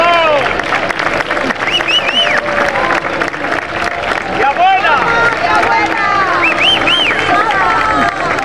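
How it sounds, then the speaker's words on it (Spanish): Audience applause at a fashion show event, clapping mixed with cheering and whistles under music and chatter, loud and continuous throughout. "Un fuerte aplauso"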